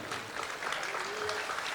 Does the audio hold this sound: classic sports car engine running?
no